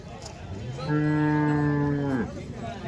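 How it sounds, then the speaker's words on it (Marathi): A Gir cow at a cattle market in Chalisgaon, India, gives one long, deep moo lasting about a second, loud and close, with quiet background noise before and after. "पहा या ठिकाणी गिर जातीची गाय"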